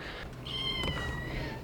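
A tiny kitten gives a short, high, thin meow close by on a traditional narrowboat, a single brief call over a quiet background.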